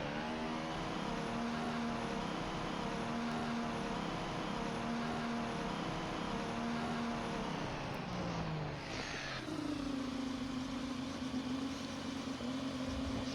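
Onboard sound of a Formula 1 race car at the Malaysian Grand Prix, a loud sustained engine whine holding steady then dropping and rising in pitch as the car shifts and accelerates, no talk.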